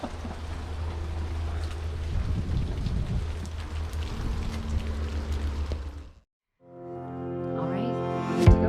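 Rain falls outdoors as a steady, close hiss of drops for about six seconds, then cuts off abruptly and gives way to a different tonal sound.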